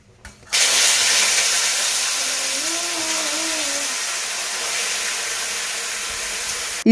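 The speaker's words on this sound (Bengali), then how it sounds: "এবার লোটে মাছগুলো আমি ভেজে নেবো আগে" Bombay duck (lote) fish frying in hot oil in a home kitchen, a loud, steady sizzle that starts abruptly and hisses on unbroken, with a faint whine rising briefly in the middle; no one speaks.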